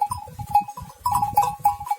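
Sheep bleat in a quick series of short, nasal calls up close, several overlapping in the space of two seconds.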